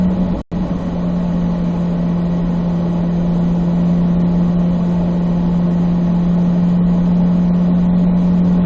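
A car on a track pulling out of a curve in fourth gear, its engine a loud, steady, close drone that holds constant after a brief dropout near the start, with no talk.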